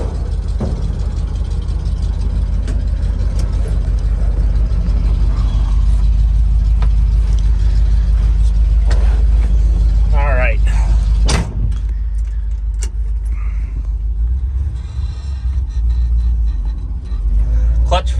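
A 1972 Chevrolet truck with a 5-speed and 2-speed rear end rumbles loudly as it drives off, a constant low engine drone with mechanical clunks and rattles, with a voice talking over part of it.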